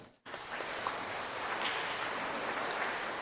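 Loud clapping breaks out suddenly from a church congregation and continues as a dense, steady wash of applause.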